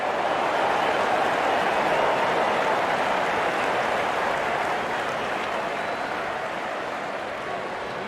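A cricket stadium crowd roars and cheers after a batsman's shot in a Bangladesh versus West Indies match, a dense continuous wash of noise that stays loud throughout and fades slightly toward the end.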